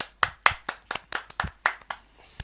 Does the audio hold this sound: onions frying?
no